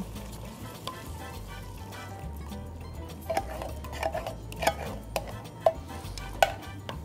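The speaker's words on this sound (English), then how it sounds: "Let's put our coconut milk in. Stir that up a little bit." Spicy beans being stirred with coconut milk in a cooking pot: a steady sizzle and bubbling under scraping spoon strokes, with sharper clinks of utensil against the pot in the second half, no voices.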